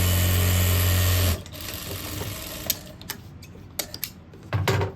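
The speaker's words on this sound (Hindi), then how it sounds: "ये जो गोलाई का हिस्सा है इस पर सिलाई लगा लेंगे" A sewing machine stitches along the curved edge of a pant pocket with a loud, steady whir for just over a second, then stops, leaving soft clicks and handling sounds.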